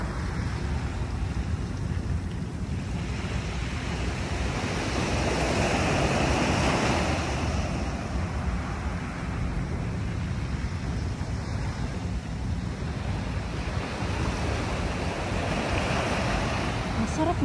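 Ocean surf rolls in steadily at Dolomite Beach on Manila Bay, a broad continuous wash of waves with wind noise, swelling slightly in the middle.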